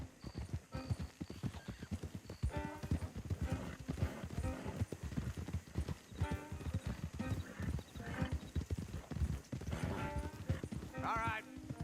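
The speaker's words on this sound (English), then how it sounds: "Don't want the horses clopping around outside the window." Steady clip-clop of horse hooves at a walk in the video game Red Dead Redemption 2, with occasional whinnies and snorts, while people talk over the rhythm.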